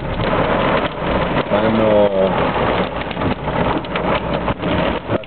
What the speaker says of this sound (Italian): come vedete adesso addirittura sta cominciando a grandinare